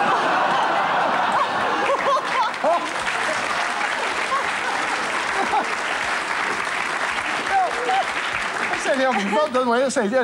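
An audience in a Dutch television studio applauds steadily and loudly throughout, with scattered laughter and voices mixed into the clapping.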